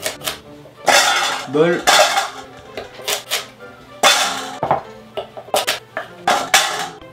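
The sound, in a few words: knife chopping rainbow carrots into bite-size pieces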